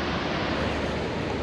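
Ocean surf at a reef with onshore conditions, a broad steady wash of breaking water mixed with wind noise, continuous and fairly loud, with no voices.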